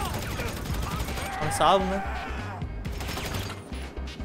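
Rapid bursts of gunfire crackle through a GTA 5 Online shootout in an uneven, stuttering rhythm, with someone talking over the shots.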